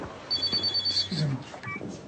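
A telephone bell rings in repeated short bursts at moderate loudness in a French thriller film scene. Quiet talk and room noise sit underneath the ringing.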